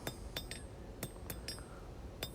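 A blacksmith's hammer forges knife steel while drawing down the point, giving sharp ringing metallic strikes at an uneven pace, roughly six blows in quick succession, moderately loud with no talking.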